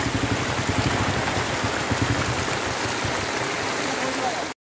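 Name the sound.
floodwater from heavy rain flowing through a market street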